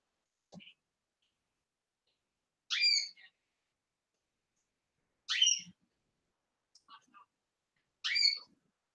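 Pet canaries squawk indoors in a quiet room, four short sharp bursts spaced a few seconds apart with faint clicks between, fairly distant and alone without talk.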